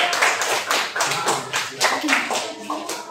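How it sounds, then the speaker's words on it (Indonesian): Applause in an Indonesian school classroom: a brief round of steady hand clapping from a group of students, fairly close, with voices mixed in. "Kita berikan aplaus"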